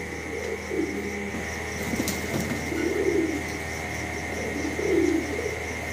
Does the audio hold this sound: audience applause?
no